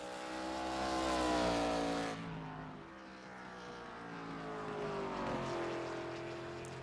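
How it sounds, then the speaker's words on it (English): An ARCA Series race car, the No. 117 of Richard Leclerc, on its qualifying lap at Five Flags Speedway. The engine roars loud and close, its pitch climbing and falling through gear changes and corner exits. "Here's the 117 of Richard Leclerc. Off of turn number 4, taking the white flag on his qualifying lap"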